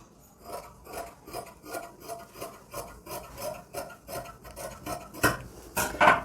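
Scissors cut through saree fabric in close, rhythmic snips, roughly a dozen evenly spaced strokes that grow louder and sharper toward the end, with no talking.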